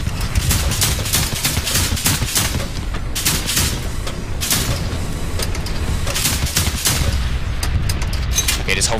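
Gunfire in the Hell Let Loose war game during heavy tank warfare, with rapid, continuous bursts of shots and booms crowding the whole stretch, loud and close.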